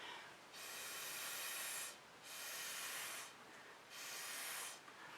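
A small air blower pushes fluid acrylic paint, orange mixed with Floetrol, across a recycled canvas, making three steady, faint hissing bursts separated by short pauses.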